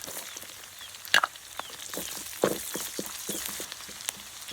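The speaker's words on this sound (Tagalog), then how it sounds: "Magigisa po tayo ng bawang." Garlic sautéing in a pan for a Camarines Norte dinailan dish, a steady soft sizzle of frying with occasional sharper pops and stirring scrapes, close and moderately quiet, no talking.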